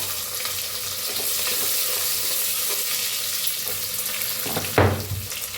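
Onion goes into a pan of whole spices, cardamom, bay leaf and mustard seeds already roasting for paneer masala, and sizzles in a steady broad hiss. A brief louder splutter comes near the end.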